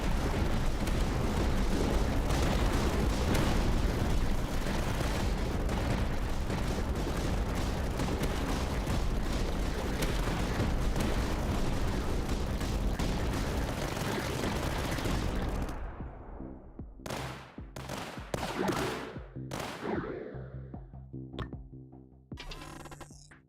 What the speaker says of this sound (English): look at those machine guns tear into things